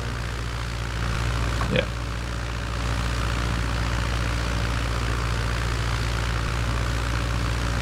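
A Lockheed Vega 5 propeller engine drones steadily in a flight simulator, a low, even hum holding at moderate power with no change in pitch, while a voice briefly speaks over it.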